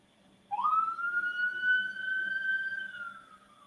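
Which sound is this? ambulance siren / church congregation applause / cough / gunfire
ambulance siren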